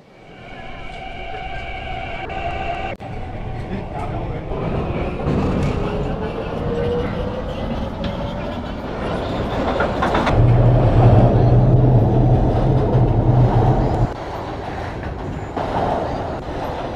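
An MTR Tsuen Wan Line Q-Train in the Hmmsim 2 game runs from Central to Admiralty: loud rail rumble and clatter under a rising and falling motor whine, with a sharp jolt early on and a harsh grinding stretch near the end.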